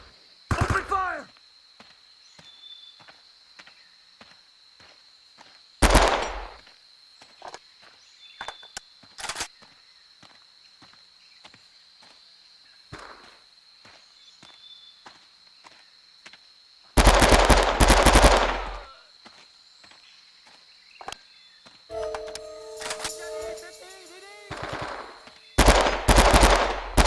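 Machine gun fire in the Men of Valor: Vietnam video game, with sharp single shots and several dense, loud bursts of automatic fire, along with shouted voices and a steady background hum.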